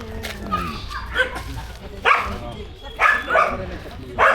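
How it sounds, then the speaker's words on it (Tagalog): A street dog barking in several short bursts at close range, mixed with people talking nearby throughout. "May aso daw."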